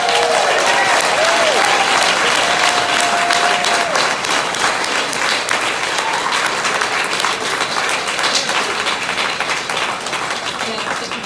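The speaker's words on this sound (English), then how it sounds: "They deserve all the applause." A large room full of people applauds farmers during a speech. Loud, dense clapping runs for over eleven seconds, thinning slightly toward the end, with a few voices audible under it early on.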